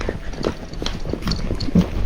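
Young horse cantering under a rider, close rhythmic hoofbeats with a clear repeating clip-clop pattern over about two seconds, with faint background noise and no talk.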